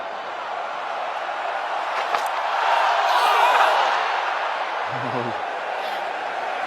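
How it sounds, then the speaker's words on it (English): Cricket crowd noise fills a India vs England Test match ground as India push for the final wickets, a steady, broad roar of a partly filled stand swelling slightly in the middle, with voices talking over it. "With incredible atmosphere here now. Not a full crowd by any means, but a lot of noise."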